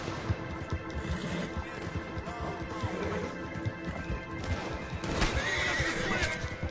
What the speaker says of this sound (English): Sorry, horsey.